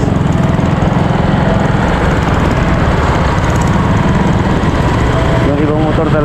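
Motorcycle engines drone close and loud on a busy road, a constant rough rumble that never lets up, with a brief warbling tone near the end.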